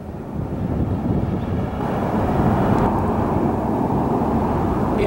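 Freeway traffic roaring right beside a rail-watching spot in Deming, New Mexico, a loud continuous low rumble of passing vehicles that swells as a heavy one goes by, with no speech.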